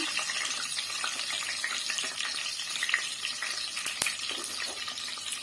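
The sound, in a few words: peppers sautéing in hot oil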